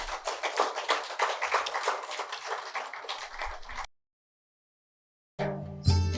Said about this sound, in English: onto the stage with a round of applause